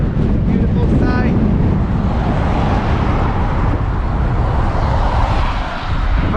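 Strong wind buffets the microphone on an exposed stretch of the Scottish coast at the Kyle of Durness, a constant loud roaring rumble that runs unbroken throughout and fills the whole clip.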